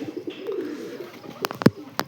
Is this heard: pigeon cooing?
yes